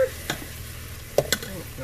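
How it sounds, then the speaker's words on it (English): A large onion and plenty of garlic sauté in a pan, a soft low sizzle under a few sharp scrapes and knocks of a utensil stirring, nearby and fairly quiet. "I'm sauteing a large onion and a whole bunch of garlic"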